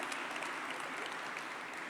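An audience at a city event in Atlanta launching a youth initiative claps together in a dense, steady burst of applause, heard at moderate distance with no speech over it.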